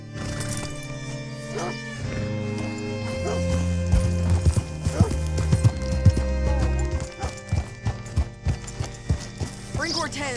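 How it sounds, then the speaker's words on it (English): Horse hooves clip-clopping in the Red Dead Redemption 2 game, a rhythmic series of hoof knocks that grows more distinct toward the end, over a musical and ambient game backdrop, with a horse whinny and a voice speaking partway through. "Hitch your horse up here."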